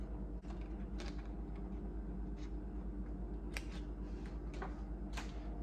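Scissors cutting a piece of plastic from the lid of a cookie box give a handful of sharp snips, spread out and close, over a low steady hum.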